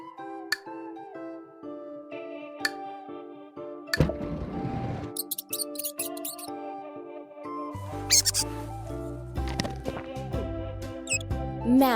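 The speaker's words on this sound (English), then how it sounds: "Mouse." A cartoon mouse squeaks in a children's animal learning game, short high chirps scattered over a bouncy tonal music backing with clinks and a brief noisy swoosh.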